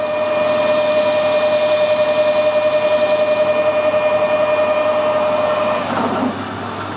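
Metal lathe turning a workpiece down to a shoulder, a loud steady motor hum with a constant high whine and rhythmic ripple, continuing evenly until the pitch drops near the end as the machine eases off.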